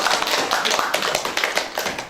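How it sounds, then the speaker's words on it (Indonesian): Steady, dense clapping from a small podcast audience, many hands beating at once, close and fairly loud for the whole stretch with no talking over it. "Tepuk tangan dulu."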